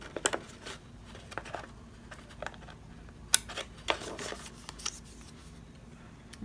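Scissors snipping cardstock for a slimline card, a scattered series of short crisp cuts and paper rustles, close and fairly quiet with brief pauses between snips.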